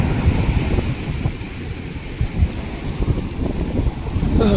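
Strong sea wind buffets the microphone in steady gusts near fishing boats, with faint water and surf noise beneath and no voices.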